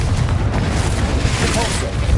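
The Confringo blasting curse in Hogwarts Legacy sounds as a steady, rumbling explosive roar, loud and close, that lasts the whole clip with no talk over it.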